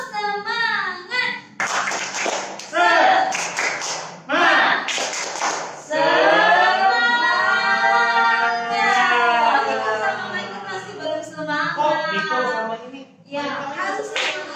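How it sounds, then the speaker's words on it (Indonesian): A group doing the rhythmic spirit hand-clapping routine tepuk semangat during an online church service, bursts of clapping in patterned beats alternating with children's sung chanting and speech. "Tepuk semangat."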